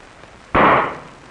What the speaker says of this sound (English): sufficient static is generated to ignite the explosion tube